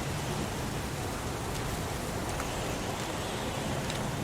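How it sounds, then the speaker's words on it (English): Heavy rain pours steadily as a dense, even hiss in the game Heavy Rain, continuous and moderately loud with no other sounds. "It's pouring rain."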